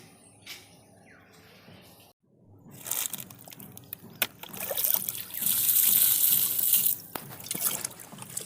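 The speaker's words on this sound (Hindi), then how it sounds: "अब इसमें हम जल डाल रहे हैं" Water poured onto an air-layered lemon plant, a steady close trickle that starts after a short quiet pause and swells in the middle before easing slightly, with faint bird chirps in the background.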